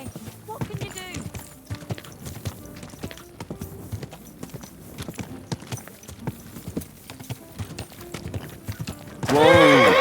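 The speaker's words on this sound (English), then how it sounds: "Easy, good horse." Horse hooves clip-clopping steadily at close range in the medieval video game Kingdom Come Deliverance II, ending in a loud, rising whinny, with a voice speaking over the hoofbeats.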